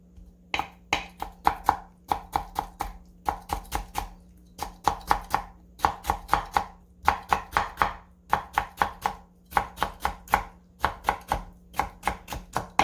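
Rapid rhythmic knife chopping as cucumber is julienned on a cutting board, quick bursts of sharp taps in steady runs with brief pauses, close and crisp, over a faint hum.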